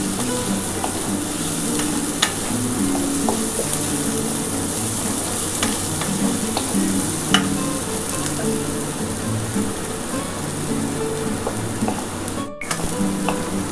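Vegetables fry and are stirred in a pan, a steady close-up sizzle with small scraping clicks from stirring that runs unbroken throughout, with no voices over it.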